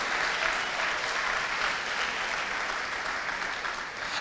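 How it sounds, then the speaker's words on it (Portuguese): A church congregation applauding, dense steady clapping that fills the room at moderate volume and tapers slightly at the end. "Pode aplaudir o Senhor assim,"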